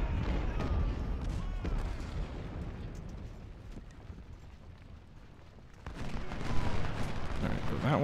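Musket volleys and artillery fire in a Civil War battle in Ultimate General: Civil War. A continuous rumble of distant booms and crackling shots swells again near the end, with someone speaking over it.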